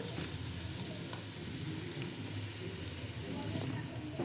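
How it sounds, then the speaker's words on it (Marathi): Green chillies sizzle steadily in hot oil in a pan while biryani is being made, a continuous close crackling fry with a few faint clinks, while someone talks throughout. "आता याच्यामध्ये आपण मैत्रिणी हिरव्या मिरच्या टाकणार आहोत"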